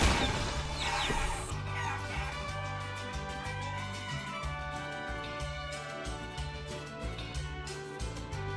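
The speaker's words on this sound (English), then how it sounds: "I want to find the chicken that teaches me combos." In the video game Guacamelee, a chicken clucks and crows in short bursts near the start, then the sound continues faintly under loud, rhythmic in-game music with bass, with no talking.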